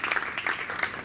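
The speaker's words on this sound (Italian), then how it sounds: "un grandissimo applauso anche a chi ci sostiene" Brief burst of audience applause at a football club presentation, dense close clapping filling the whole short moment.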